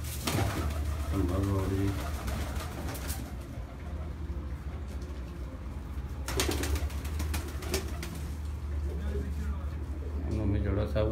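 Pigeons coo repeatedly on a rooftop, soft rolling calls recurring in bursts close by while someone talks over them and a steady low hum runs underneath.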